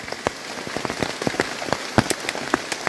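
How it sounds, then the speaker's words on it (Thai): Rain pours steadily outdoors, a dense hiss of drops on surfaces with scattered sharper, close patters and plops throughout. "ฝนก็ตกอีแล้ว"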